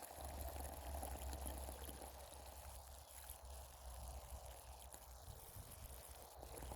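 A plant pot on an allotment gets a thorough watering, and the steady pour of water makes a soft, even wash that continues throughout at low volume.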